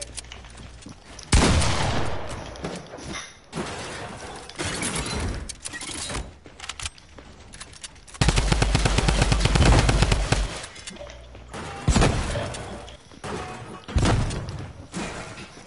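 Heavy automatic gunfire from a weapon in a video game, loud sustained bursts with shorter volleys and thuds between them, no talking.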